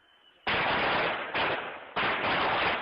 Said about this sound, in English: this amateur video shows armed men moved in, then gunfire broke out